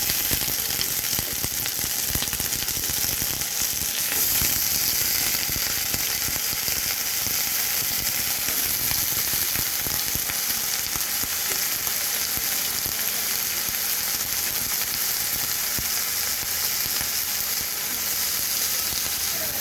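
Lightly browned onion with cut potato, beans and eggplant sizzle in a pan in a continuous, even hiss that stays steady throughout, with no voices.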